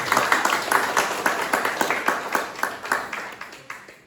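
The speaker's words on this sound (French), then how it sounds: "Bienvenue, on peut l'applaudir" An audience applauds an artist at a celebration event, brisk clapping with distinct individual claps in a steady rapid rhythm, moderately close.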